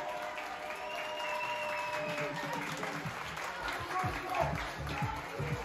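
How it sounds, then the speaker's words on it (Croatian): A crowd at a youth football tournament final between Čukarički and Voždovac gives the players of both teams sustained applause before a penalty shootout, with steady clapping spread across the stands and a few voices mixed in. "Ništa ne razbija tremu kao jedan gromoglasan aplauz za igrače obe ekipe."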